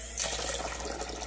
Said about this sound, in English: just running some water.